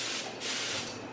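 Coating sprays in a close, steady hiss onto the mirror and glass of a Tesla Model S 100D, broken by a brief gap before a second continuous burst.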